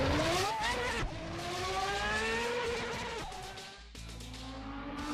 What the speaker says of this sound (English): And the sound this engine makes, absolutely love it.